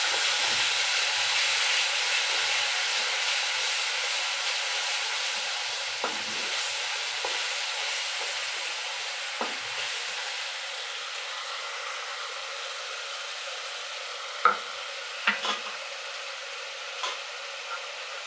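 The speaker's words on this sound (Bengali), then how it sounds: "এবার জিরে ফোড়ন দেবো।" Cumin seeds temper in hot oil for a duck egg curry, making a steady sizzling hiss that slowly eases, with a few sharp pops and clinks near the end.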